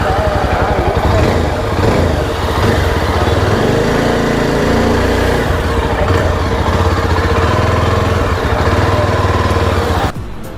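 A Yezdi Adventure motorcycle engine runs steadily nearby, its low putter fluctuating slightly before cutting off abruptly near the end.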